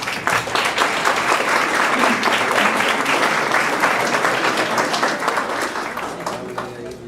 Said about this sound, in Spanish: Pido para ella un fuerte aplauso.